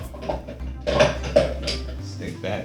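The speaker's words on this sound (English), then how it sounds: "So now we're going to take the chilled blade of the food processor," A chilled metal food processor blade clinks briefly into place in a kitchen, a couple of light metallic knocks under steady talking.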